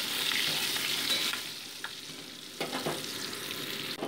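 Boiled duck eggs coated in salt and turmeric sizzle in hot mustard oil in a wok. The frying is loud at first, then settles lower, with a few sharp stirring clinks and scrapes near the pan.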